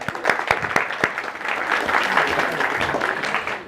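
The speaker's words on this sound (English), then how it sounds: "give her a little bit of a round of applause as well" Audience applause at a university talk at Coventry University: a few separate claps at first, then building into steady, dense clapping from a crowd, moderately loud and close.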